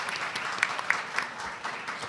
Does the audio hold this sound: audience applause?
yes